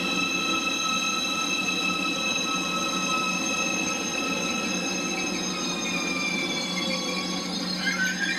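A train on a journey from the Rhine Valley to the Allgäu runs loudly and steadily past, its wheels giving off sustained high metallic squeals over a constant rumble for the whole stretch, with no voices.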